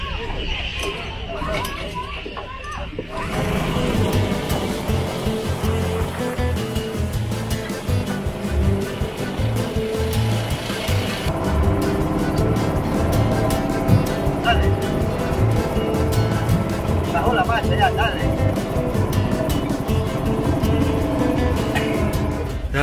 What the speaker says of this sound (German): Da kommt das Boot.